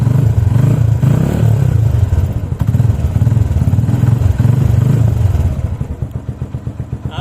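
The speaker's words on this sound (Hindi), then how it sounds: "आप देखें इसने इतने लोड के साथ माशाल्लाह बाइक को ज़बरदस्त स्टार्ट किया है।" A motorcycle fitted with a lithium battery while carrying an electrical load starts up and runs, its engine putting out a loud steady throbbing rumble with clattering beats that carries on for several seconds and loosens toward the end.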